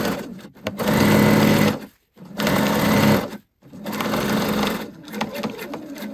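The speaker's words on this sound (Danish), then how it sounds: "Så den første her syr jeg direkte i linjen." A sewing machine stitches fabric for a handmade craft bag, whirring loudly in three sustained runs separated by short silent pauses, with a few quick bursts of stitching at the end.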